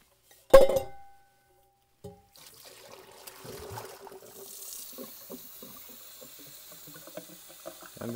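A faucet runs into a kitchen sink as a coffee filter basket is rinsed: a sharp clink first, then a pause, then a steady splashing stream with small knocks and trickles that grows fuller toward the end.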